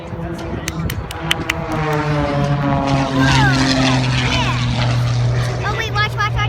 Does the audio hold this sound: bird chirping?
no